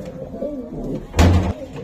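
Spanish pouter pigeons kept with their young in a loft, giving low rumbling coos that swell into one louder, deeper burst midway, with no talk over them.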